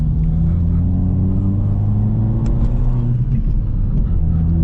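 A car cruises steadily along empty Belgian roads, its low engine rumble and road noise constant and close throughout, with no talking.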